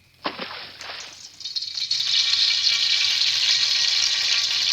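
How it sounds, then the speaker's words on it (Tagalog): Cooking oil heats in a frying pan (kawali) for ginisang sitaw. A few soft clinks come first, then a bright, steady sizzling hiss swells and holds close and loud. "painitin muna natin ang kawali. At habang pinapainit natin ito, lagyan natin ng mantika"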